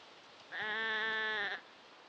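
A single sheep bleats in the Project Zomboid video game, one loud wavering call about a second long, clear against a quiet background with no talking.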